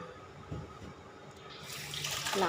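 Running tap water pours over fresh chilies, young peppercorns, fingerroot and kaffir lime leaves being washed for a spicy frog stir-fry, a soft close trickle that grows louder and splashier toward the end.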